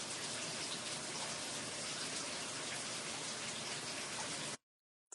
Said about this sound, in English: Is it raining where you are?